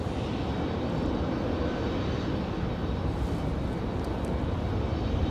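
An ATR 72-600 turboprop on a Mountain Air Cargo flight from New Bern, heard at night at Raleigh-Durham airport as a steady, dense engine roar that stays loud and even throughout.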